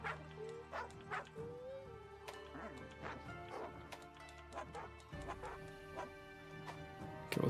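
Dog in a monster-hunting video game gives a series of short barks and yips with a few whimpers, scattered across the stretch amid game sounds and music, moderately loud.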